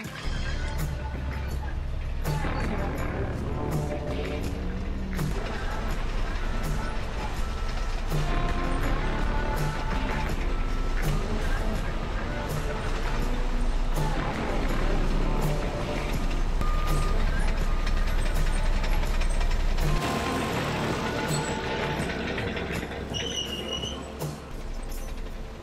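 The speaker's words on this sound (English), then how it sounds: "Even as the pumper finishes its work and folds its arm, the gravel keeps coming." Gravel pumper truck at a construction site for a new store build, with a steady diesel engine drone, repeated reversing beeps and machinery clatter running continuously.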